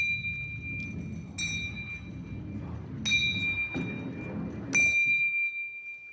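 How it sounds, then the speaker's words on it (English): Small bells struck one after another by a rolling ball on an incline, four bright metallic dings spaced at roughly even intervals, each ringing out over a low rumbling background. "So we should hear the bells ringing at equal intervals in time."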